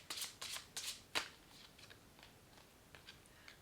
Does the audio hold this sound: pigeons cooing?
no